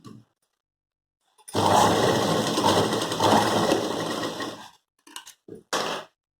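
A sewing machine stitching blouse fabric into a carry bag, a loud continuous whirring run of about three seconds followed by a few short bursts of stitching after a pause.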